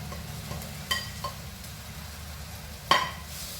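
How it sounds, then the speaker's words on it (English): Potatoes being stirred with onion and dhania in a pan, a soft scraping and stirring with a faint sizzle underneath and a couple of brief sharper clinks of the utensil against the pan. "mix them together and ensure that every piece of potato is well coated with the onion and dhania."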